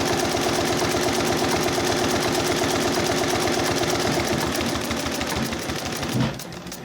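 A Dürkopp-Adler 366-76-12 industrial sewing machine stitches at its top speed of 500 stitches per minute, a loud, steady, rapid mechanical rattle that runs unbroken for about six seconds before stopping with a brief clunk.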